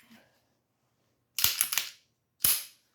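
A Ruger LCP Max pistol being cleared: a quick cluster of sharp metallic clacks as the slide is racked, then one more crisp snap a second later, close and loud with no talking.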